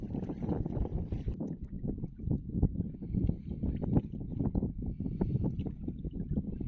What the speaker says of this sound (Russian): Ветер поднимает волну, которая бьет катамаран, и его мотает в разные стороны.